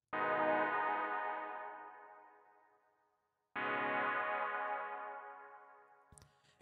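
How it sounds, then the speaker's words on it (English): A synth stab with a pluck attack, the CMI V Tape Pad preset in Analog Lab 3, sounds two sustained harmonic chords that fade slowly, quiet and alone, with a faint ticking at the end. "So then I layered that sound with another kind of stab pluck sound, which is also in the Analog Lab 3."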